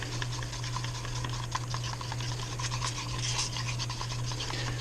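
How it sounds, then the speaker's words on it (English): Two-part pour foam being stirred by hand in a cup, giving a steady close scraping and rasping with small ticking clicks against a constant low hum, no voices. "Okay, so now we're going to mix up some more pour foam."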